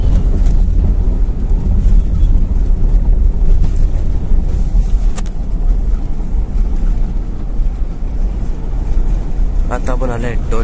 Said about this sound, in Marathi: एवढा पाऊस जोरदार चालू आहे